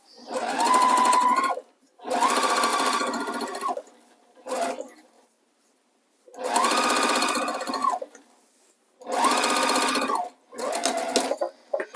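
A sewing machine stitches quilt binding with a quarter-inch seam in several loud, fast whirring runs of a second or two each, broken by short silent pauses.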